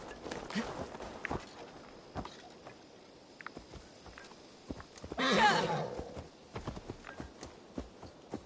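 A horse in a camp in Assassin's Creed Valhalla walks with steady, moderately close clip-clop hoofbeats, joined by a short burst of louder rustling partway through.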